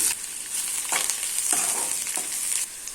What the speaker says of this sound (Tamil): ஒரு பெரிய வெங்காயம் நைஸாக கட் பண்ணியிருக்கேன், அதை போட்டுக்கலாம். போட்டுட்டு நல்லா வதக்கிடலாம்.